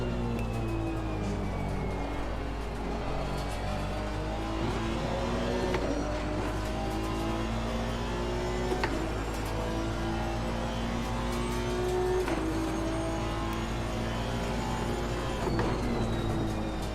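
Aston Martin GT race car engine in the Assetto Corsa Competizione racing game, a continuous droning engine note with rising and falling tones through gear changes, steady and moderately loud with no talking.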